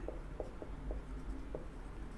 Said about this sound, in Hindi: चलिए लिखती हूँ मैं यहाँ पे